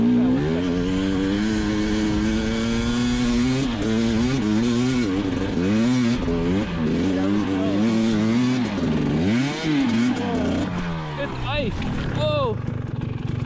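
An enduro motorcycle engine drones steadily in second gear, rising and falling in pitch as the rider works the throttle. It sounds loud and close throughout, and speech is likely mixed in.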